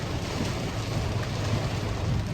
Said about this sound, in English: Listen to that rain, y'all. It's starting to thunder and lightning.